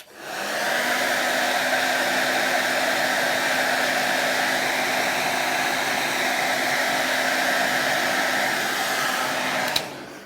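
A hot-air blower heats a tablet's touch screen to loosen it, a steady rushing drone that starts abruptly, runs evenly for about nine seconds and cuts off with a click.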